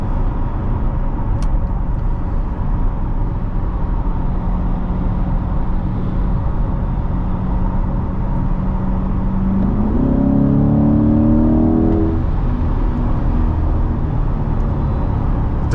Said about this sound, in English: Definitely a good, powerful engine.